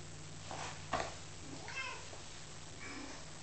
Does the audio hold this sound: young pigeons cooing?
no